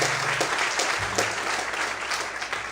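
A church congregation claps during an evening worship service: steady, dense applause fills the whole stretch, close and loud, with a faint voice underneath at the start.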